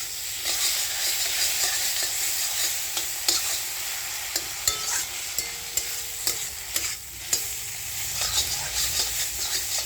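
Green chillies and spices sizzling in hot oil in a pan, a loud continuous frying hiss punctuated by regular clinks and scrapes of a spatula stirring.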